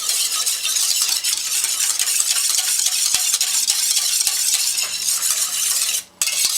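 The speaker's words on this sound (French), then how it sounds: "On va bien mélanger tout ça." Homemade yogurt mixture with orange blossom water being stirred in a bowl, a steady close scraping and swishing of the utensil that runs throughout and cuts off briefly near the end.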